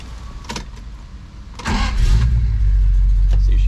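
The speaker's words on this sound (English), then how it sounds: "See, she fires right up." A 1970 Plymouth Barracuda with a 440 V8 cranks briefly, then catches and settles into a loud, steady, rumbling idle up close.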